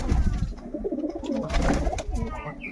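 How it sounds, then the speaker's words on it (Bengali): Low, throaty cooing of several pigeons, repeated and overlapping at close range, with a faint soft voice in the background. "সব কবুতরগুলো নিচে নেমে এসছে"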